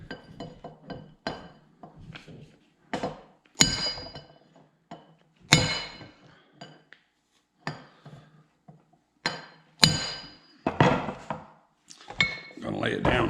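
A piece of bronze shafting being handled during final assembly of a rebuilt Economy 5 hp engine: a series of sharp metallic clinks and knocks, irregularly spaced and fairly close, with quiet gaps between.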